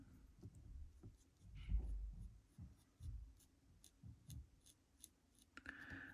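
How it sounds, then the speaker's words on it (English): A pen scratching on paper while making a pen and ink drawing, with faint, close, irregular strokes and taps coming in quick bursts with small pauses. "So today I'm going to do another pen and ink drawing."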